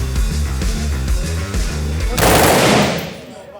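A police tactical unit's automatic weapon fires a rapid burst of repeated loud shots at close range, ending in a sharp, roaring final blast that fades out.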